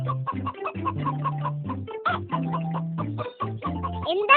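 A hen cackles loudly after laying an egg, a close, insistent series of choppy clucks and squawks repeating in quick bursts with no pauses.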